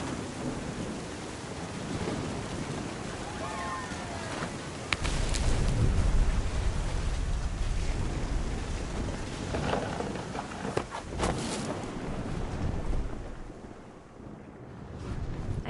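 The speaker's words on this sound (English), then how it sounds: "The thunder sounded much too close and full of angry power" A thunderstorm with rain in What Remains of Edith Finch: a constant rain-and-wind wash that builds into a deep rumbling thunderclap, followed by further sharp crackles, with no talk.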